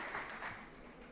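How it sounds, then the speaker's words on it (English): Audience applause for Lord Krish at a UK India trade panel discussion, a steady wash of clapping from a crowd that holds evenly through the short moment without voices. "A huge round of applause for Lord Krish."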